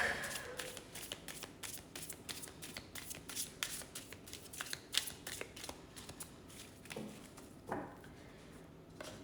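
Deck of tarot-style reading cards shuffled by hand at close range, a steady run of crisp riffling flutters and soft slaps with a few sharper snaps toward the end, no talking.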